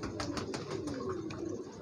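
A female pigeon coos in soft, repeated low calls at close range, with faint background noise and no talk.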